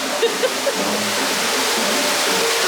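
A waterfall at a Magic Kingdom attraction rushes continuously, a dense, loud wash of falling water up close, with a few faint tonal blips near the start.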